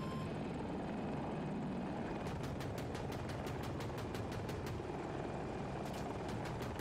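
A KA-520 Super Hokum helicopter's steady rotor roar fills a video game scene on the Hourglass map, joined midway by bursts of rapid gunfire-like clatter, loud and continuous with no talk.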